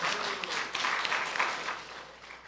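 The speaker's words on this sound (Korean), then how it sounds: "박수." Applause from a church congregation at a revival service, a brief, fairly faint patter of clapping hands that fades out after a couple of seconds.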